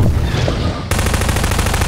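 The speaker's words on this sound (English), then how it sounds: "Stop shooting!" Automatic gunfire in Garry's Mod: a short rattle of shots, then a loud, continuous rapid-fire burst that hammers on close and alone with no talk.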